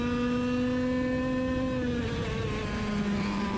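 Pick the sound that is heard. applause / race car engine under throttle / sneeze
race car engine under throttle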